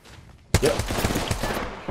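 Bursts of rapid gunfire erupt in an Apex Legends ranked match, a sudden loud volley followed by a quick stuttering string of shots that keeps rattling to the end.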